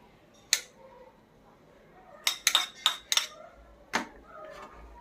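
Soybeans and vegetables such as tomato drop into a bowl for a soybean salad, giving a few sharp clinks and clatters, one single tap followed by a quick cluster of knocks and a last clink, quiet in between.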